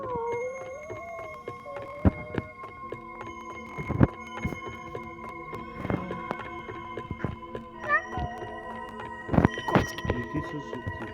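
A cat meows in several short, wavering cries scattered through a busy indoor scene, mixed with other animal-like howls, clattering and background noise.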